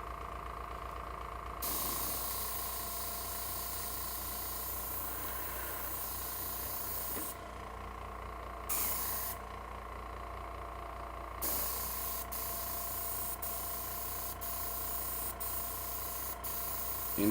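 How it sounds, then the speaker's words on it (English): An airbrush sprays paint onto a model railroad in repeated hissing bursts, some long and some short, with quiet gaps between them and a faint steady background hum. "as long as the airbrush is doing alright"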